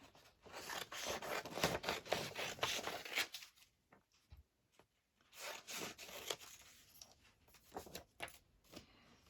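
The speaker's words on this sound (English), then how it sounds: "I'm going to cut this one out. Where's my scissors?" Scissors cut out paper journal card pieces up close, giving bursts of crisp snipping and rustling paper. A short quiet gap splits the cutting into two passes, and no one speaks.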